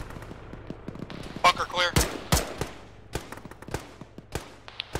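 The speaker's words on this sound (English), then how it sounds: "One heard some gunshots. Yeah, they're close." Gunfire in the ArmA military video game during a ShackTac mission, with sharp shots cracking out irregularly, some single and some in quick bursts, close by, while players talk over radio.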